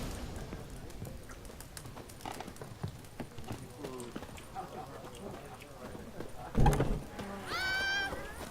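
Horse hooves clip-clopping at a steady pace in The Witcher 3 game, with a loud snort or whinny near the end and a spoken voice over the hoofbeats.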